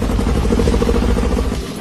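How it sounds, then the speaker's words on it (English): The once-seized engine of a supercar left abandoned for years runs again, a loud, steady, rough rumble with a clattering edge, close to the microphone. "The engine was seized solid, but we managed to get it running."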